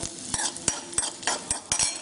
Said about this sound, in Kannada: ಮೆಣಸನ್ನ ಸ್ವಲ್ಪ ಫ್ರೈ ಮಾಡಿ